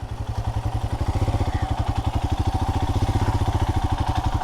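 Royal Enfield Himalayan motorcycle engine on a weekend exploration ride, a steady thumping single-cylinder pulse at a constant pace, loud and close with no talking.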